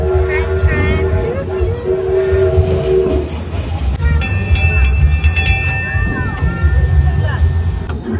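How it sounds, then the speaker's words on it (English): A train rumbles and clatters loudly as it pulls away in Perth, Australia, with horn or whistle tones sounding midway, under nearby voices. "Our train is going."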